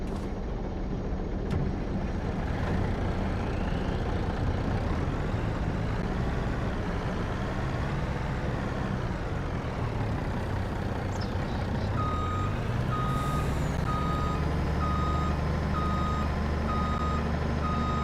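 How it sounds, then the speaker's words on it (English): A semi truck in Farming Simulator 25 idles with a steady, continuous engine drone, and a loud, regular reversing beep starts partway through and repeats to the end. "So now I have a semi truck."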